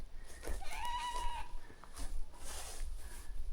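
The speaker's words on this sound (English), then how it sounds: "This is a goat." A goat on the grounds of a former coffee plantation bleats faintly a few times in the distance, alone with no talk.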